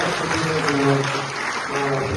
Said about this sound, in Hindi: एक बार दोबारा आप तालियां बजाएं